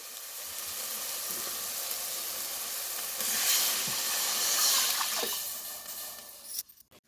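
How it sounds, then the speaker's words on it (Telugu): Water poured into a hot pan of oil with coriander, salt and ginger-garlic paste for bagara rice gives a loud, steady hissing sizzle that swells midway, then cuts off abruptly near the end. "వాటర్ వేసేస్తానండి."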